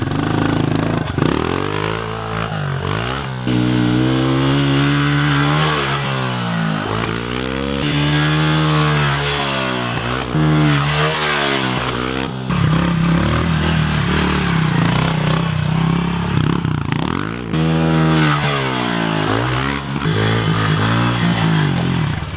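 A 2021 Honda CRF110F pit bike engine runs loud and close, its small single-cylinder note rising and falling through repeated revs and gear changes for the whole stretch.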